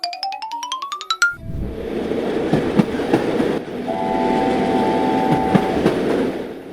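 An animated train rushes loudly past after a short rising musical jingle, with a continuous rolling rumble, rhythmic clacks and a brief sustained horn tone midway, close and alone with no talking.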